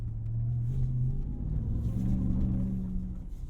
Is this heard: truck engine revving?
yes